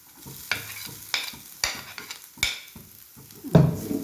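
Chicken pieces and curry leaves go into a pan heated on a low flame, each addition sparking a short burst of sizzling amid several sharp stirring scrapes, close and fairly loud with no talk.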